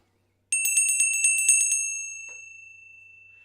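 A small bell rings at a live Viennese Wienerlied music performance, a quick bright series of about ten close strikes followed by a long fading shimmer in otherwise quiet surroundings.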